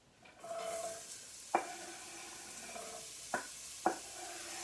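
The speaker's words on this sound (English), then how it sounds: "The only thing that I'm adding to this pot is the onions." Onions going into a soup pot for creamy potato soup, a soft, quiet sizzle with a few sharp knocks of a utensil against the pot, close and alone.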